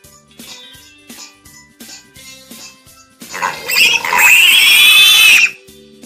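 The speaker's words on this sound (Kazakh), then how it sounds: "Шошқа." A pig grunts in a series of short, evenly spaced snorts, then lets out a louder, drawn-out squealing grunt close by, with no speech.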